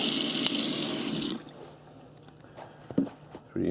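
A tap runs hard into a sink while a shoe coated in Rust-Oleum NeverWet is rinsed under it, a loud, steady rush that stops abruptly, followed by a few faint drips and knocks.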